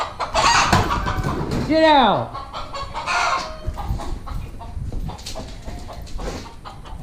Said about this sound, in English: You stupid chicken!